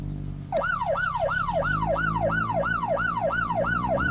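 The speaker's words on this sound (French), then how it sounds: "Petite sirène pour bien que j'entende arriver." A municipal police vehicle escorting a convoy switches on its siren, a loud, close wail that sweeps rapidly and evenly up and down about ten times over a rumbling engine.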